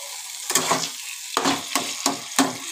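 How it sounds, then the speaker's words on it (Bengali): Taro leaf greens (kochu shak) stirred in a pan, close scraping strokes in a steady rhythm of about four sweeps over a faint sizzle. "এবার সমানে নাড়াচাড়া করতে হবে"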